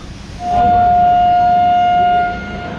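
A loud, steady horn-like tone holds for about two seconds over rumbling rail noise as the Udaipur–Jaipur intercity train pulls out of the station, with the low rumble continuing after the tone stops.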